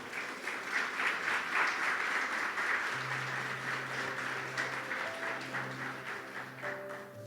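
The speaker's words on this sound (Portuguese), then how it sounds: "Você pode aplaudir Jesus nessa noite," Church congregation applauding during an evening service, a fairly faint, distant wash of clapping that fades gradually while a sustained keyboard tone comes in underneath.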